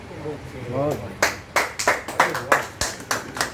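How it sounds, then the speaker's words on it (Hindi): Audience clapping at a business plan presentation: a voice speaks first, then a run of about ten distinct, fairly loud claps follows in a steady rhythm. "तालियों से धन्यवाद कर सकते हैं"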